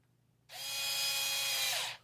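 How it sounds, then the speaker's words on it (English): Power tool tightening a part on a TRX4M Chevy Cheyenne High Trail Edition RC truck, a single short high-pitched whirring burst of about one and a half seconds after brief quiet, close and alone. "Just go use your power tool until you get to a point where you feel it's far enough"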